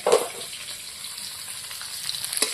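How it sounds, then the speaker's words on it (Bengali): Chicken sizzles steadily in a hot pan of oil, a constant crackling hiss with a brief clatter of stirring at the start. "এখন আমি এটা ভাজা ভাজা করে নেব"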